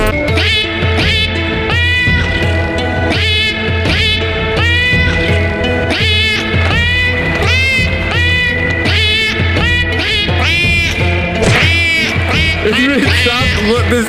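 Cat meows pitched like a trombone in the rhythm game Trombone Champ, a loud, continuous run of warbling, sliding meow notes over a steady musical backing, with no talk.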